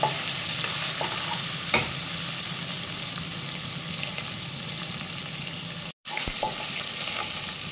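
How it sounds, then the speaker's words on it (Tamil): Crushed ginger and garlic sauté in a pan with a steady, close sizzle and occasional stirring scrapes, the frying noise running continuously with one brief break. "இது கொஞ்சம் வதங்கிடுச்சு."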